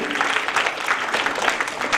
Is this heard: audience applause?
yes